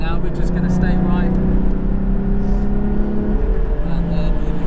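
On a race track during a trackday, another car overtakes a Porsche Cayman GT4. Its engine note swells and then fades under the loud, steady cabin drone, with a voice talking over it.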